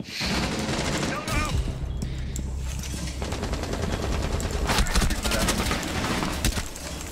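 Rapid video game gunfire rattles almost continuously at high volume, dense automatic bursts filling the whole stretch, with excited voices partly buried underneath.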